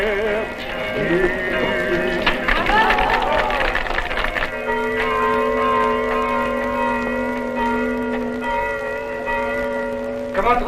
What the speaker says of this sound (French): Comment trouvez-vous mon carillon